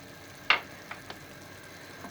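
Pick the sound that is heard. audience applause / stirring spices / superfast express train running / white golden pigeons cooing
stirring spices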